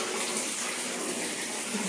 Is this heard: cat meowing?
no